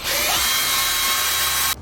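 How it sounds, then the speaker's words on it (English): A handheld power drill whirs loudly and continuously for under two seconds as it takes a part off a bidet, then cuts out abruptly. "I will go in with my drill, and I'm going to just take this part off"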